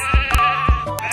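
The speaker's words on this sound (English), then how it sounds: "a flock of virtual and rather flighty sheep to look at" Sheep bleat in a rapid cluster of close, loud calls, several overlapping voices from a flock at a Scottish estate, with wavering nasal cries and no talk.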